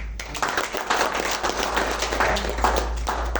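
Audience applause from a crowd of many hands, a dense, steady patter of clapping that lasts several seconds over a low background hum.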